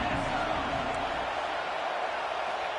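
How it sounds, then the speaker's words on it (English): Steady wash of football stadium crowd noise, a dense roar that holds evenly throughout without distinct cheers or peaks, loud and continuous, as a hostile home crowd tries to rattle the visiting offense. "This crowd going to try to make life miserable for these guys"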